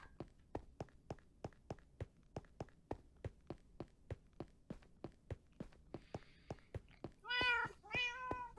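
Cats in the Minecraft video game meow twice near the end, loud and close, after a long run of steady, evenly spaced thumping steps.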